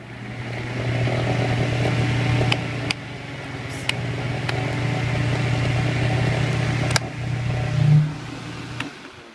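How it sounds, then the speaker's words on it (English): A Holmes Blizzard II fan with a General Electric motor starts up and runs with a steady low hum and whir, close and fairly loud, with faint clicks over a continuous drone. "There's a startup sound on these ones with the General Electric motor."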